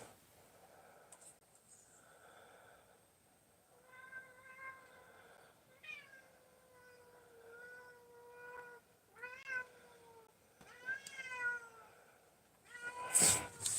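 A house cat meows repeatedly for treats, a series of drawn-out, rising and falling cries spaced apart in a quiet room, ending with a loud rustle or bump.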